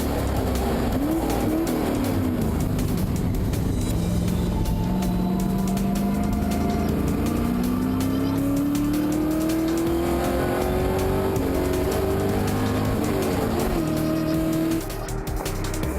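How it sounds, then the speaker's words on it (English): A racing car engine screams along a track during a race, rising and falling in pitch through gear changes, with tire squeal and other cars nearby. "We go on board now with Djurk Venter as he chases down Colin Ellison's Alpha."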